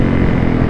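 The engine of a 450cc sport motorcycle drones loud and close during a race, a continuous dense roar with no gaps over a brief moment.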